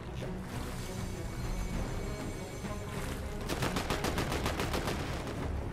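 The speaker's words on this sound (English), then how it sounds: "he got shot at in the back" Rapid gunfire in a ranked shooter video game, with a burst of closely spaced shots in the second half over a constant noisy game background, moderately loud with no talking.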